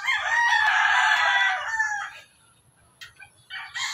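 A local banded stag rooster crows once, loud and close, in a long drawn-out call lasting about two seconds, followed by quiet with a few faint soft sounds.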